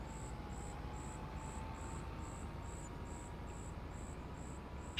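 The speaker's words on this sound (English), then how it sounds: "Man, that cricket's loud, I think he's jumped in the cab with me" A cricket chirping inside a tractor cab in Farming Simulator 25, a steady series of evenly spaced high chirps, about two per second, over a low constant cab hum.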